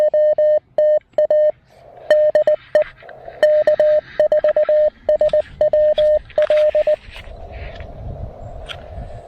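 Morse code CW sent on the 20 meter amateur band during an outdoor portable activation, heard as a loud, steady single tone keyed in short and long bursts, breaking into hiss and static near the end.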